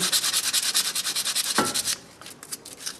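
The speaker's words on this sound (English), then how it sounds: "That's just a piece of sandpaper, Scotch-Brite pad, emery cloth, something like that, just to clean it up." Brake pad hardware from the rear brakes of a 2003 Chevrolet Impala being cleaned with sandpaper or a Scotch-Brite pad: quick, rhythmic rubbing strokes, close and loud, that stop after about two seconds and are followed by a few lighter scrapes.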